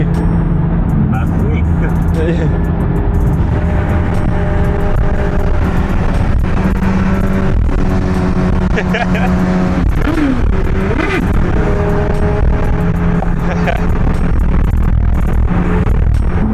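1064 hp Corvette ZR1 racing a fully carbon BMW S1000RR motorcycle: loud, continuous roar of engines and wind rush throughout, with voices talking over it.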